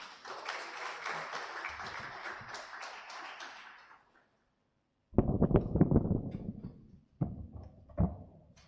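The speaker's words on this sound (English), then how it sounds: "Ladies and gentlemen, a round of applause for the CEO." Audience applause for a CEO at a press and public engagement event, a few seconds of steady crowd clapping that fades to silence, followed by separate sharp knocks and taps.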